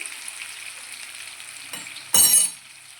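Potato chips for a masala chips curry fry in hot oil in a pan with a steady, soft sizzle, then a sharp, loud burst of crackling as they are stirred before the sound settles down.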